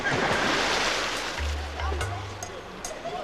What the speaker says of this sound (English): The Olympic swimming pool in Munich.